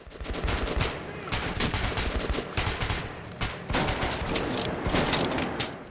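An old, rusty gun in the video game Metro 2033 fires in sustained rapid bursts, a loud, dense rattle of shots with only brief gaps between volleys.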